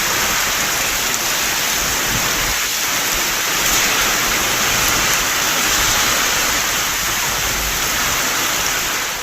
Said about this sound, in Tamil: காற்றுடன் மழை பெய்தது